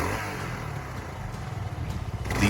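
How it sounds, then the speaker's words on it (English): An early Kawasaki KLR650 single-cylinder motorcycle engine runs steadily with a low thumping drone that builds slightly in loudness toward the end, heard close with no talk. "Inside, the early KLR650 beats a single-cylinder thumper"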